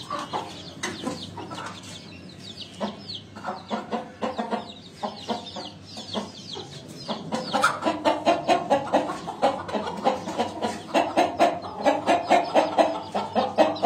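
Two white roosters and a hen cluck steadily and close by, the clucking growing louder and more rhythmic in rapid repeated bursts through the second half, with no talking.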